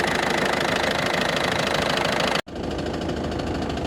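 A car engine idles with a fast, steady metallic ticking knock, recorded close and loud; the sound cuts out for an instant midway and resumes.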